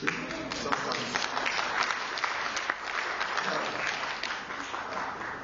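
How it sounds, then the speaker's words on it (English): Conference audience giving modest, steady applause after a talk, a fairly quiet, even patter of clapping that carries on without a break. "That's a rather tepid applause."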